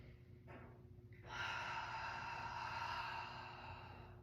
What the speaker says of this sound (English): 2 more big breaths.